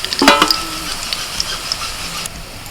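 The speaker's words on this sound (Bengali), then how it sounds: "বেরেস্তা ভাজা হয়ে গেছে আর এইরকম বাদামি হয়ে এলেই কিন্তু তুলে নিতে হবে" Sliced onions for bamboo biryani frying in oil until brown give a loud close sizzle, with a couple of sharp utensil clinks at the start.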